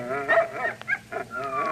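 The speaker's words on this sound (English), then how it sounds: "Dogs. That is the sound of dogs." Several dogs bark and yip in short bursts during a radio drama scene, loud and fairly close, with a few whimpering tones between the barks and no talk over them.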